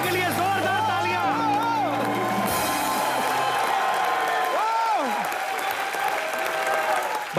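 A comedy show studio audience breaks into strong applause with cheers and whoops, loud voices rising over dense clapping that continues steadily to the end.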